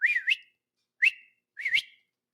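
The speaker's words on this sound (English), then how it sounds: "My dog just jumped up when I started whistling." A person whistles three short bright bursts with pauses between, each warbling up and down in pitch, close and fairly quiet, with no talking.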